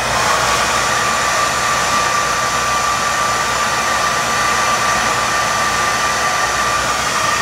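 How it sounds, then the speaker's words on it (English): A hair dryer set to low heat blows steadily and loudly at close range, warming an eyelash curler in one continuous, unbroken whoosh with a faint tonal whine. "Tapos, i-blow dry ko siya."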